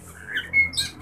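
An oriental magpie-robin (kacer) gives short, bright chirps and a whistled note, fairly close, over a faint background hum.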